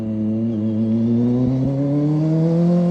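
A Kawasaki ZX25R motorcycle engine hums at close range in third or fourth gear while slowing, with a steady high-revving inline-four whine that climbs gently in pitch over three seconds and has brief low thumps midway.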